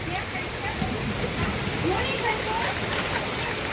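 Heavy sowing-season monsoon rain pours down over flooded farm fields, making a dense, steady roar that holds at an even level throughout.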